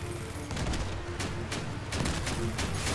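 Machine gun fire in the vehicle combat game Crossout, sustained rapid bursts rattling steadily across the whole stretch, loud and dense with a few heavier impacts mixed in.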